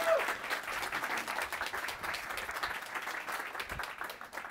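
An audience breaks into applause, dense steady clapping that carries on for several seconds, moderately loud with no voices.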